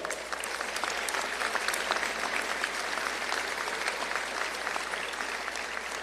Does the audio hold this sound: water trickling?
no